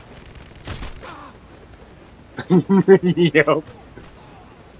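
Rapid semi-automatic rifle shots in the Warzone video game, a burst of about seven sharp, evenly spaced reports after a brief single shot, with a player's short remark between.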